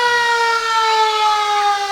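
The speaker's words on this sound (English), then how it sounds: "Hear the sirens going" A City of Harriman Fire Department fire truck sounds its siren at a Christmas parade, a loud, steady wailing tone held close by throughout.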